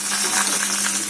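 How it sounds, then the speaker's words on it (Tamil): Mustard seeds and cut dried red chillies hit hot oil for a drumstick poriyal tempering, giving a steady close sizzle with small crackling pops throughout. "கடுகு, காஞ்ச மிளகாய் ஒரு 5 மிளகாய் கட் பண்ணி போட்டுக்கலாம்"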